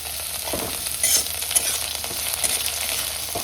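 Dragon chicken stir-frying with garlic and spring onion greens hisses loudly and continuously in the pan, with scraping stir strokes and brief spitting flares over the constant sizzle.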